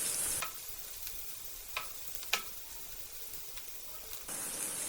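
Onions and spices being sautéed in oil in a pan while making a Kerala-style mutton intestine fry, a soft continuous sizzle with a few sharp stirring clicks and scrapes.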